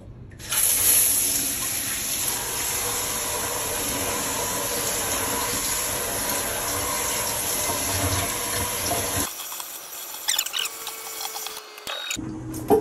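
Running water gushes steadily over a water maker filter as it is rinsed aboard a boat, loud and continuous for about nine seconds before cutting off, followed by quieter handling sounds.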